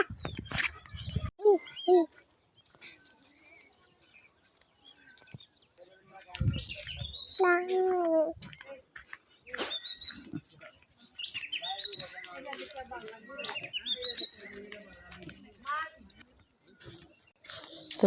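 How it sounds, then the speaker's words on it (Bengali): Birds call across open fields, bright chirps and warbling phrases repeating throughout, some near and some farther off, mixed with a few other brief noises. "তো পাখির ডাকগুলো অনেক খুবই সুন্দর লাগতেছে।"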